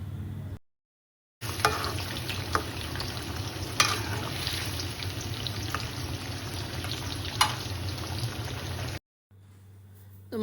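Pama croaker fish simmering in a boiling gravy with ridge gourd, a dense continuous bubbling sizzle with occasional sharp clicks, bracketed by brief silences and a low hum.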